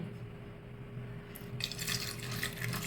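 Water splashes into a pot of horse gram soup, a steady pour that grows louder and brighter partway through, faint and close with a low tonal hum underneath.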